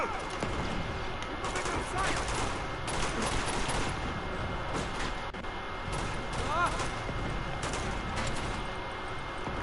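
Gunfire in the video game Uncharted: Drake's Fortune, scattered shots and bursts of fire mixed with game action, moderately loud and continuous, while a person talks over it throughout.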